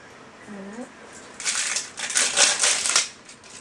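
Plastic packaging around an ELF cosmetic product crinkles and crackles loudly in bursts as it is handled and torn open, following a brief murmur of voice at the start.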